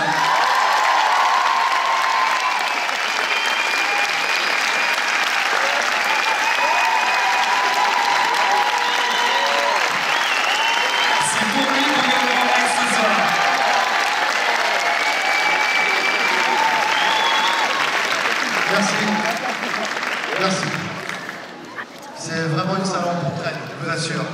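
A large audience at a Paris film premiere at Le Grand Rex keeps up loud, continuous applause with some cheering for a long stretch. Voices speak over it at times, and the clapping thins out near the end.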